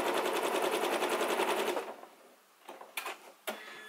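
A sewing machine runs in a fast, steady stitching rhythm while finishing the last seams of a quilt, then stops, leaving a few soft clicks and handling noises.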